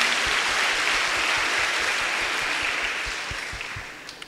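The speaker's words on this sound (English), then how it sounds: "Let's give them a clap as well." A church congregation claps during a Sunday confirmation and brigade service, steady dense applause from a roomful of people that continues for several seconds and slowly thins out toward the end.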